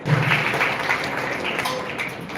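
An audience clapping at a Vallabh Jayanti devotional gathering, a dense burst of many hands applauding together, loud at first and then fading a little over a couple of seconds.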